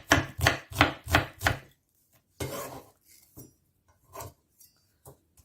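A knife chops garlic and shallot on a board in five quick, evenly spaced thuds, then a pause, a longer scraping stroke and several softer scattered taps.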